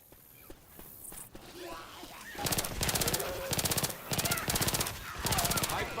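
Rapid automatic gunfire from a first-person shooter video game, rattling off in several loud sustained bursts separated by short pauses, with footsteps and quieter game sounds between them.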